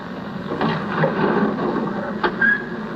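Studio recording of a door scraping for a Doctor Who effect: a rough, grainy scrape at modest level with a few sharper creaks and clicks, no talking over it.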